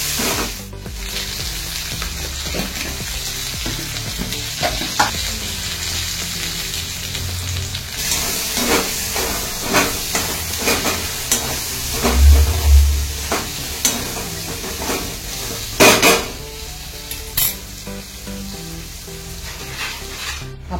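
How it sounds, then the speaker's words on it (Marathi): Fenugreek leaves sauté in hot oil with turmeric and salt in an iron kadhai, giving a steady close sizzle with occasional scrapes and stirring knocks throughout. "तेलात त्याला चांगलं परतून हळद, मीठ घालून एक 7 ते 8 मिनिटात वाफेवर आपण याला शिजवून घेऊया"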